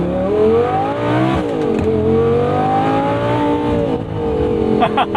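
A 2011 Audi R8 V10 Spyder with a gated manual revs hard and close, rising and dropping in pitch as it double-clutches into first and pulls, with voices talking over the engine.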